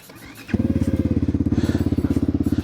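A Geon GNS 300 motorcycle engine fires up from the ignition button: a brief cranking whir, then a sudden catch into a close, loud, steady pulsing idle.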